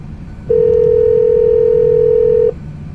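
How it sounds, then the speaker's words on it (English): A steady, loud telephone dial tone from a desk phone on speakerphone in a plant control room, holding unbroken for about two seconds over low background hum; no distinct keypad beeps are heard. "Dial in 1112, just like that, and click button right here, speaker."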